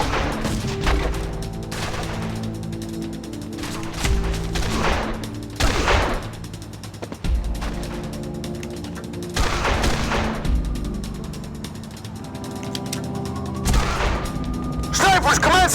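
Sniper fire rings out in a Made Man gunfight, a handful of loud, separated cracks and booms spaced across the scene, with voices and background music in between.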